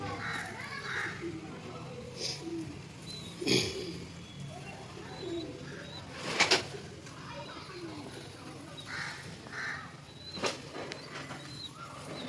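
Pigeons kept for sale in Howrah Sankrail coo softly and repeatedly at close range, low gurgling calls under a person talking, with a few brief sharper bumps and wing or handling sounds.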